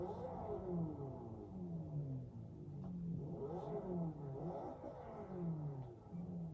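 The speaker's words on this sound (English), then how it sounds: "I'm revving the car." A car engine in the video game Forza Horizon 2 revs repeatedly, its pitch climbing and falling in rising sweeps, loud and close with no voices.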